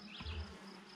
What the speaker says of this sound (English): Over there, bees. They're pretty nice and calm.